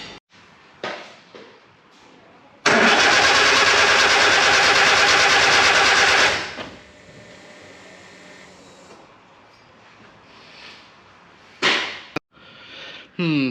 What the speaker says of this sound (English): It spins over lovely, we've got plenty of voltage, but it still won't start now.